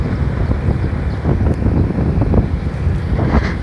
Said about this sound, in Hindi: अब मस्त एकदम ठंडी हवा लग रही है